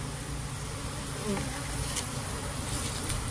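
Apis cerana bees swarm during a hive transfer, a dense, continuous close buzzing drone filling the air without a break.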